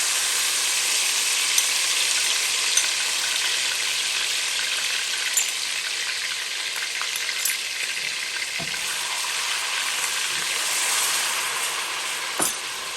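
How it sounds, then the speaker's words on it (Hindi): Ginger garlic paste sizzling and frying in onion-flavoured oil for chicken korma, a loud steady crackle with occasional stirring clinks, no talking. "इसमें जिंजर गार्लिक का पेस्ट डालूंगी।"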